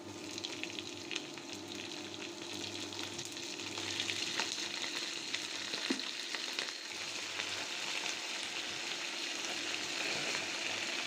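Two and a half kilograms of chicken pieces go into golden-brown fried onions in a pan, giving a loud, continuous sizzle with some stirring and clatter, and no voices.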